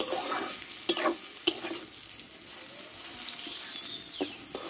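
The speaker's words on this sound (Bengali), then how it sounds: "এইভাবে একটু ভালো করে কষে নিতে হবে।" Bitter gourd (karela) being stir-fried in a pan, a continuous soft sizzle punctuated by a few loud, sharp spatula clacks against the pan and scattered lighter scrapes.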